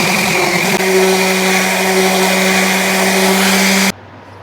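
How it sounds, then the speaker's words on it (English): A power sander runs on chunky cedar coasters cut from fence pickets, a loud steady motor whine with a constant tone for about four seconds before cutting off abruptly. "We're going to sand them down a little bit"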